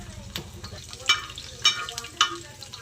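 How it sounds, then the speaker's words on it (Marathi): Garlic frying in oil before fish is added, a soft crackle broken by three or four sharp spattering pops and stirring scrapes, fairly close, without speech. "चला तर गाईस तेल टाकलं मस्तपैकी. लसूण टाकूया मस्तपैकी."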